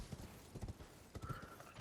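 Quiet clip-clop of a horse's hooves from the Elden Ring video game, several soft rhythmic footfalls in uneven clusters, faint and alone.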